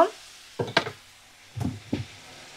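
A spatula scrapes and stirs onion with ground coriander and cumin paste in a pan, giving a few short, soft scraping strokes separated by quiet pauses.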